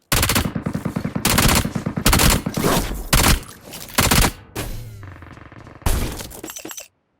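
Rapid bursts of P90 submachine gun fire in PUBG Mobile's Metro Royale mode, loud and close, in several short volleys separated by brief pauses, with no talk.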